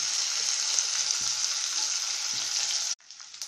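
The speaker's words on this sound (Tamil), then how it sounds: "கருவாடை வறுக்கணும்" Dried anchovies frying in plenty of hot oil, a loud, dense, crackling sizzle held steadily up close, which drops off suddenly near the end and returns weaker.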